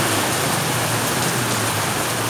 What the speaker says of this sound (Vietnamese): bất chấp mưa rơi.